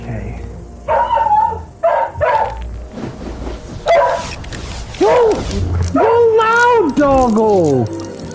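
A loud pet dog named Cedric, wearing a sweater, barks and yips in short bursts up close, with whimpering whines, while a person talks over and between the barks.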